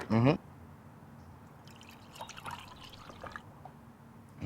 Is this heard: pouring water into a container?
yes